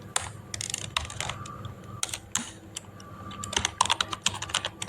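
Rapid, uneven keystrokes on a computer keyboard as a medical report is typed, close and fairly quiet, with bursts of clicks and short pauses and no talking.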